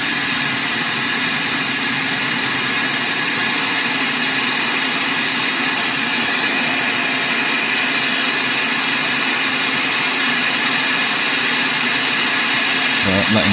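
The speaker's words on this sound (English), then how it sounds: "Get the hot air on it again." A hot air rework station blows continuously over solder on an Acer Nitro 5 laptop board, a steady airy hiss with a low motor hum, close and unbroken throughout.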